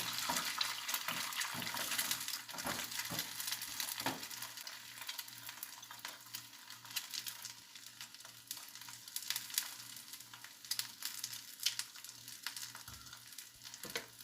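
Egg white frying crisp in an oiled wok, a continuous fizzing sizzle with crackling pops and occasional scraping stirs, constant and fairly soft, no talk.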